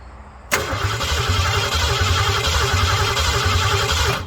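A Ford Mustang engine cranks on a jumper wire and catches abruptly, settling into a loud, steady running rumble with rhythmic low pulses that holds alone until it cuts off.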